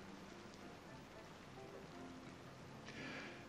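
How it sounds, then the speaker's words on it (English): Steady rain falls at night, a soft continuous hiss of drops on surfaces with a slight swell toward the end, quiet and even with no voices. "Starting to rain."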